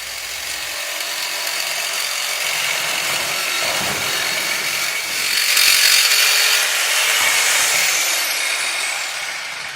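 A long snap cover being cut to length, a continuous power-tool whine running steadily throughout with a slight swell midway, with no talk.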